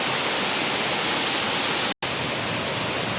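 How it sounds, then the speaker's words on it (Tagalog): A powerful waterfall roars as a dense, constant rush of falling water, broad and loud, with a momentary dropout near the middle. "Talaga napakakusog sa waterfalls oh"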